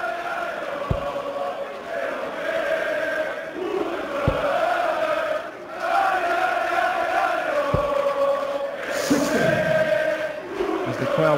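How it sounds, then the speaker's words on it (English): A darts crowd at the European Darts Open sings together in a large arena, a sustained chorus of many voices with a few sharp thumps and a burst of cheering near the end. "As the crowd burst into song, warming up for tomorrow's World Cup final"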